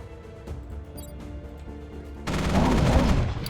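A mech opens fire in the Mech Armada video game: quiet game music gives way to a sudden, sustained burst of loud rapid gunfire in the last second or so.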